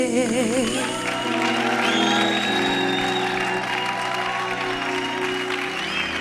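Guests at a wedding ceremony clap steadily as a crowd, a dense continuous applause with music playing alongside and occasional scattered whoops.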